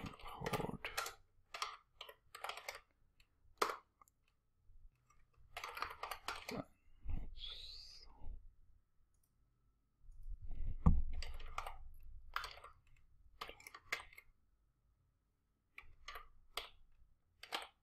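A computer keyboard is typed on in scattered quick bursts of soft, faint clicks separated by pauses, with low background murmur.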